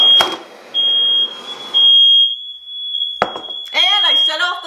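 A smoke alarm set off by cooking a cauliflower crust pizza sounds a steady high-pitched tone in repeated bursts, close and loud, with kitchen clatter and a voice speaking near the end.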